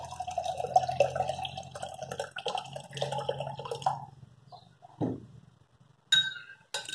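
Ice-cold water poured into a bowl of peach ice cream mix with condensed milk, a splashing, trickling pour that thins out, then a clink and brief drips near the end, no talk.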